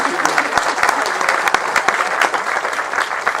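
An audience at a school closing ceremony applauds the cheer team with dense, steady clapping, moderately loud and continuous throughout, with no break in it.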